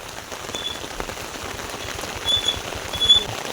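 Dense, steady monsoon rain in the Konkan drumming on a surface nearby, with a few louder splashing bursts toward the end.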